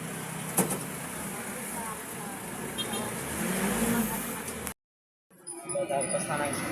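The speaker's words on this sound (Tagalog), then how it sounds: "Hindi ganong traffic dito sa circle." Road traffic around a traffic circle, heard from inside a moving jeepney, forms a steady broadband rumble of engines and tires with faint voices mixed in, then briefly drops out before resuming.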